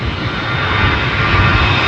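Broad, steady jet roar from a departing Delta airliner at Anchorage airport, loud and continuous with a low rumble throughout, no voices over it.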